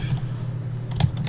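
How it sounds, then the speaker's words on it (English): Computer keyboard typing picked up over an online voice chat during a multiplayer gaming session, a few soft clicks heard faintly over a steady low hum, with a brief sharper burst of keystrokes near the end. "I hear him typing."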